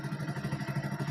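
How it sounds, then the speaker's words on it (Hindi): A Hero Honda BS6 motorcycle engine runs with a rapid, even pulsing idle, close and steady for a brief moment after a kick start, with no voices. "किक लगाया और बाइक हमारी स्टार्ट होगी"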